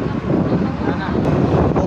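Steady wind gusts across the microphone, a constant low roaring rumble that fills the whole stretch without letup.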